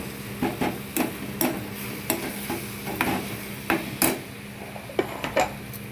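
Tomatoes sautéing in a pan for an okra chutney, with repeated sharp taps and scrapes of a spoon stirring against the pan over a faint sizzle, close and irregular, no voices.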